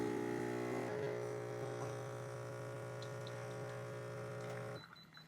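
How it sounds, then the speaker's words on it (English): Cusimax espresso machine with built-in grinder pulling a single shot, giving a steady electric pump hum with harmonic tones that runs for several seconds and then cuts off near the end. "all we have to do is just press the espresso button, press it once for 1 shot and twice for double shot"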